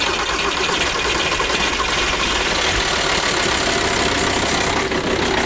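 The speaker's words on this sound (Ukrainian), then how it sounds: "Щось не дуже ярко він завівся. Наче й не мороз, але трошки тяжко запустився." A Volkswagen Transporter van engine, started with some difficulty after a failed first attempt, runs at a steady, loud idle close by, with a continuous rough mechanical drone and no speech.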